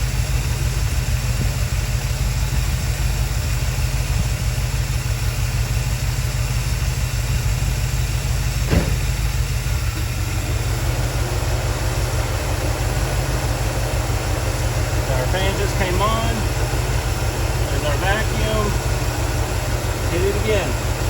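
A 1972 Buick Skylark engine idling after a timing adjustment during a tune-up, a steady low rumble running unbroken throughout, with a brief knock near the middle and faint voices later on.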